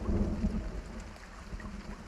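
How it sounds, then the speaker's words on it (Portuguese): A rumbling thunderstorm with steady rain, deep low thunder strongest at the start and easing into a continuous wash of rainfall. "O céu acima fervia com nuvens de tempestade, iluminando meus arredores com relâmpagos ininterruptos."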